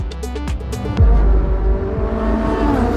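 Race cars roaring along a clear track toward the finish of a one-make series race, a loud close engine drone with rapid gear-shift pulses early on, then a sustained, heavy rumbling pass.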